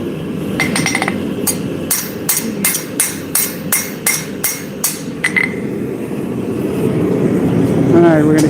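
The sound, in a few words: power hammer forging a knife blade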